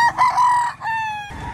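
An eight-month-old Golden Boy sweater bloodline rooster at a fowl market in Lipa, Batangas crows loudly and close, a single strained, warbling call cut short.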